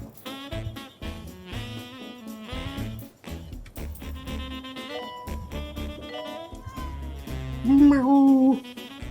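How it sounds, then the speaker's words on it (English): A cat meows over background music from the Two Point Hospital video game, one drawn-out, wavering meow rising near the end among softer sounds, with a person talking at times. "Meow."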